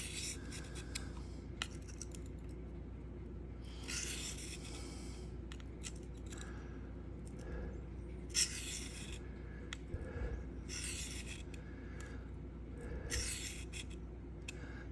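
Knife steel, S110V, being drawn across a Sharpal field sharpener, giving repeated bursts of close, bright scraping strokes in an irregular rhythm over a steady low hum.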